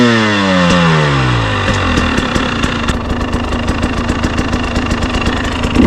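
A KTM 300 TPI Erzberg 2021 two-stroke dirt bike engine revs hard and climbs through the gears, a loud, close, buzzing whine with rising pitch sweeps and rapid firing pulses, no talk.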